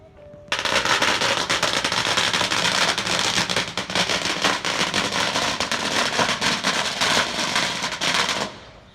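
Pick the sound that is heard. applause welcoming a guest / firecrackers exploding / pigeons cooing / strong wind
firecrackers exploding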